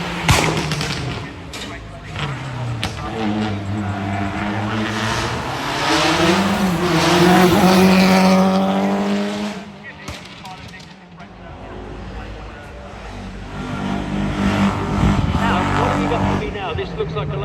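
A Lotus Sunbeam rally car at a Prescott hill rally event drives past, its engine note rising and sweeping through as it passes close by, loud and continuous, with a commentator talking over it.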